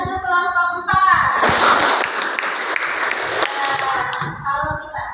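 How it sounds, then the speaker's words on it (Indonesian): Students in a classroom clap to vote for a team, a broad wash of hand claps for roughly two seconds, with talking heard before and after. "Silakan tepuk tangan untuk kelompok 1."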